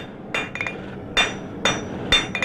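A blacksmith hammers a quarter-inch square bar while drawing out the point of a J-hook, giving about six sharp, ringing metallic strikes at uneven intervals, with a few quick doubled blows and no talking.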